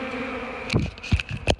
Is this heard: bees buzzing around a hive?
yes